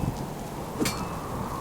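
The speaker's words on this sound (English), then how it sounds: "And it's raining." Steady rain falls outdoors in miserable weather at a wilderness moose-hunting camp, an even hiss that continues throughout at a low level.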